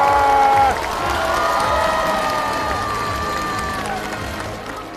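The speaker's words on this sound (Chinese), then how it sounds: "所以现在我们要把所有的掌声尖叫献给我们最后这位朋友" A stage show audience breaks into sustained applause and cheering, a loud wash of clapping and shouting voices that holds steady and slowly fades, with a held tonal sound above it.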